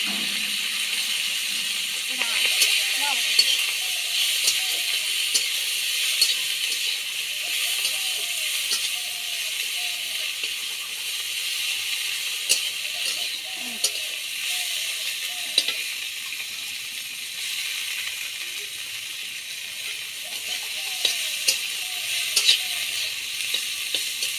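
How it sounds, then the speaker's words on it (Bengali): Fenugreek greens with dry red chilli and cumin tempering sizzle in hot oil for methi dal, a steady bright crackle running throughout with occasional stirring scrapes and a few soft bursts of speech over it. "শুকনো লঙ্কা, শাকটা দিয়ে দিলাম, শাকটা একটু ভেজে নেব"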